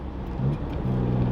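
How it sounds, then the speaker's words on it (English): A Subaru Justy drives along a street, its engine giving a steady close drone inside the car that steps up in pitch twice as it shifts through the gears. "I'm on the street, driving along. Shifting gears."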